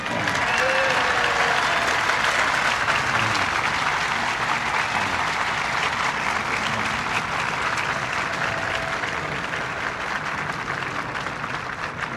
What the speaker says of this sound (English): today, all America applauds.